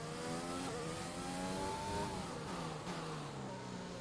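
Race car engine in an F1 racing video game revving steadily at high pitch, with gear changes and rising and falling tones, loud and continuous with no talk.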